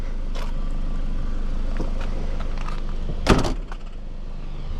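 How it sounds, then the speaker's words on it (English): On a 2005 Toyota RAV4, a trunk is opened with a faint mechanical rustle, then a sharp latch clunk and a short rattle near the end, all heard against low background rumble. "An easy to open trunk."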